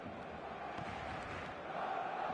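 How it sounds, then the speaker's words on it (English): A full stadium crowd in an eFootball match roars as a steady, distant wash of cheering and chanting, fairly quiet and unbroken throughout, with faint calls rising near the end. "The stadium is full of noise and energy."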